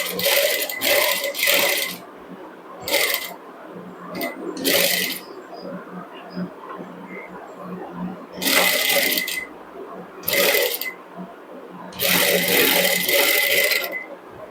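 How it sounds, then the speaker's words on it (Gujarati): Sewing machine stitching a blouse sleeve, several loud bursts of rapid stitching of one to two seconds each, separated by pauses filled with fabric handling and a voice talking. "હવે આને આ રીતે આપણે ડબલ સિલાઈ કરતા રહીશું"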